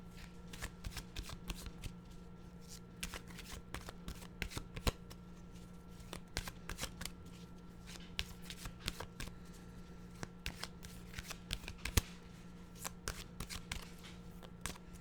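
Animal oracle cards being shuffled by hand, a steady stream of soft riffling clicks and flutters running continuously, close and fairly quiet over a low steady hum, with no talking.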